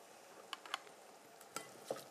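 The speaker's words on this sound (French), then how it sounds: "Je mélange le bulot." A spoon works whelk and mayonnaise together in a bowl, producing faint, sparse wet squelches and light clicks against the bowl in an irregular rhythm, quiet and close.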